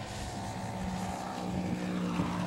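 Hans Richter RC model airplane coming down to land on a flight school runway, a steady buzzing propeller drone heard at moderate distance throughout the short stretch.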